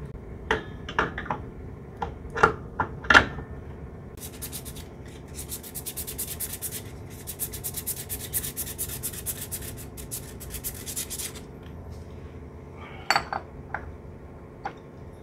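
Sandpaper rubs steadily against a scooter clutch lining, a continuous rasping scrape lasting several seconds, set between sharp metallic taps and clinks of parts being handled close by; no one speaks.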